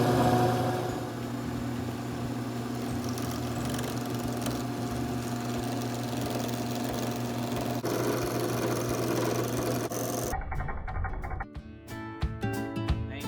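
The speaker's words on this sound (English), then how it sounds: "I can turn the knob all the way off, which it is, and then I'll slowly turn it on, and the lathe will turn on." Wood lathe motor switched on and running steadily with a constant mechanical hum and whine, in a pen-turning workshop, close and continuous until a burst of clattering, uneven noise near the end.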